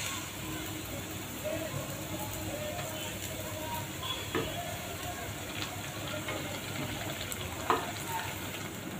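Medu vada frying in a little oil makes a soft, continuous sizzle with light bubbling, fairly quiet and close, broken by a few faint clinks. No one speaks over it.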